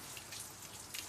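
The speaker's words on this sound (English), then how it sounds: "It's rain." Steady rain falling outdoors on a windy day, a dense, even hiss of drops across the full short stretch with no voices.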